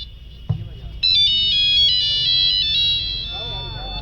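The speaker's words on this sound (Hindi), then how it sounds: "अचानक उसकी फोन की घंटी बजती" A phone ringtone plays loudly and steadily, a repeating electronic melody that starts after a brief knock and fades slightly toward the end.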